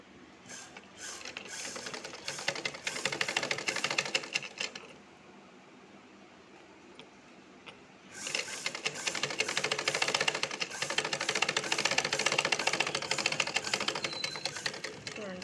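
A sewing machine stitches fabric in two long runs of rapid, steady mechanical clatter separated by a quieter pause, close by; a voice can be heard faintly in the background.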